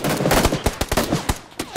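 Gunfire in the Xbox One X battle royale game PUBG: a string of separate sharp shots, about a dozen in under two seconds and spaced unevenly, moderately loud, with no voices.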